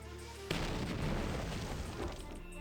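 Firework launchers in the strategy video game Battle Nations set off a sudden boom, then a sustained rumbling barrage of crackling explosions lasting a couple of seconds.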